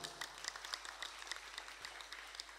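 An audience at a school drama performance applauds with steady, faint, distant clapping that continues evenly throughout.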